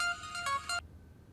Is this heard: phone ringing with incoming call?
yes